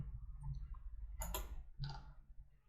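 Two quiet computer mouse clicks sound close by, a short double click followed by another a half second later, over faint background hum with no talk.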